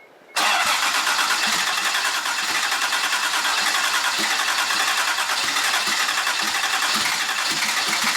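A rebuilt Toyota 7M-GTE engine cranks and catches after a brief quiet moment, then runs loud and steady at a rough idle for the rest of the clip, close by with no talk.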